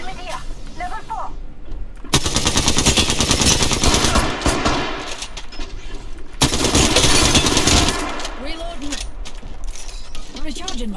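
Rapid automatic gunfire from the Apex Legends-style battle royale game while playing as Horizon, loud sustained bursts with short pauses between volleys, over a busy mix of game effects and a voice calling out.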